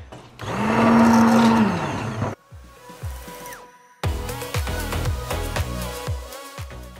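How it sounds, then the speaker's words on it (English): An immersion blender breaks up chunks in a pot of soup with pasta, giving a loud, close whirring motor burst of about two seconds, followed by quieter kitchen clatter and knocks. "I'm gonna use my immersion blender just to break up some of these chunks just a little bit."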